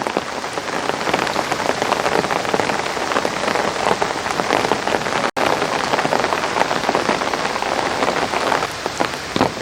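Steady rain falls on a flower garden planted with dahlias, a dense, even patter that holds at the same level throughout with no voices.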